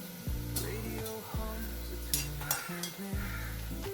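Dried red chillies and coconut fry in a hot pan, with a steady close sizzle broken by several scraping stirs of a spatula and light clinks against the pan.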